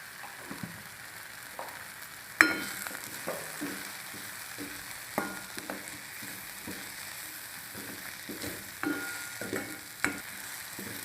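Spices with turmeric and salt stirred in a frying pan, a soft sizzle under repeated scraping and knocking strokes of a spoon in an irregular rhythm, close by, with one sharper clank early on.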